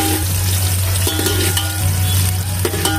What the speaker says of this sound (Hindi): अब इसमें हम प्याज डालेंगे और प्याज ब्राउन करके हम निकाल लेंगे।